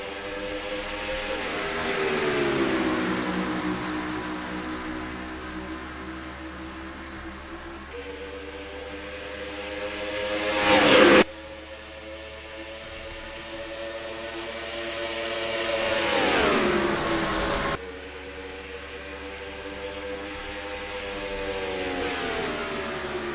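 Race cars at Texas Motor Speedway in the NASCAR Racing 2003 video game, engines howling at high revs as they sweep past in repeated rising and falling waves, with a sharp loud burst near the middle and no talking.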